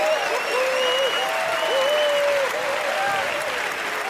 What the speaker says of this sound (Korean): 여러분, 멘델레예프 박사님께 큰 박수 부탁드립니다.